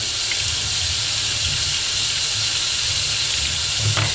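Tap water runs steadily over a plastic paint palette being cleaned of acrylic paint, a constant hissing rush with low rumble underneath and a brief clatter near the end.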